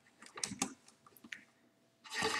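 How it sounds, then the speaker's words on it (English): Fingers typing on a computer keyboard while playing Roblox, a quick irregular burst of light key clicks up close, then a pause and a louder, denser rush of typing at the end. "I'm typing so slow every day."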